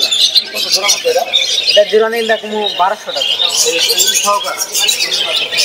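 Pet budgerigars at a bird and pet shop give harsh, repeated squawks and chirps throughout, mixed with bright chatter and loud enough to stay present under someone talking nearby.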